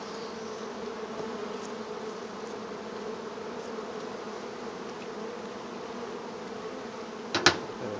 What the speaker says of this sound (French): Je vais juste enlever les abeilles.